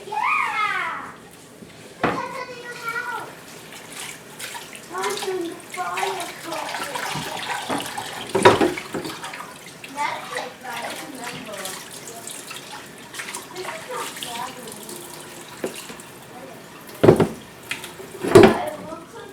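A kitchen faucet runs and splashes into a sink through most of the stretch, with dishes clinking and sharp knocks now and then, while people talk over it.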